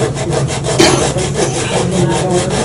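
A squeegee scrapes a layer of oil paint off a painted canvas in a close, steady run of rhythmic rubbing strokes, with no talking.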